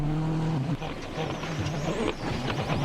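A Peugeot rally car passes on a forest stage at Rally Great Britain 2005, its engine note rising and changing pitch as it goes by, with commentary running over it.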